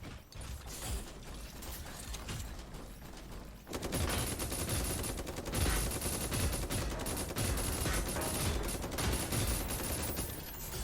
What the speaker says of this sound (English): how's it feel to get shot at,